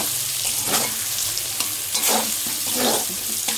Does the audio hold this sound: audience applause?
no